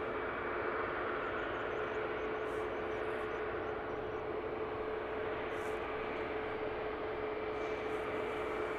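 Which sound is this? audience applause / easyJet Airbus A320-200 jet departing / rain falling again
easyJet Airbus A320-200 jet departing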